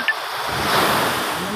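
Sea waves wash in at the shore while wind buffets the microphone, a broad steady roar that swells slightly and then eases, heard close and without talk.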